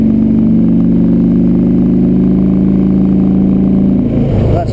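Harley-Davidson Ultra Classic touring motorcycle with a new engine pulling steadily under acceleration, a loud continuous low drone that holds its pitch and then fades near the end.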